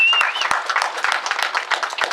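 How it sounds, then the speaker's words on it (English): A seminar audience bursts into applause, dense clapping throughout, loud and close, with a whistle at the start. "Let's give them a big round of applause."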